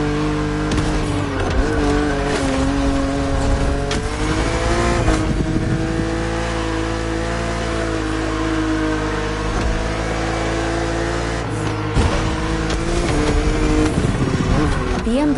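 A BMW Z roadster drives in The Crew Motorfest, its engine a loud steady drone with shifting revs and gear changes across the stretch, over a game soundtrack, while a narrator talks.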